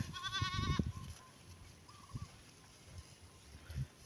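Goats bleating in a sunny pasture, one loud wavering bleat up front, then fainter scattered calls and light movement noises.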